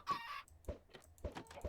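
Chickens in the Minecraft video game cluck in short, repeated game-sound bursts, a few separate calls spread over under two seconds, fairly close and clear with no talking.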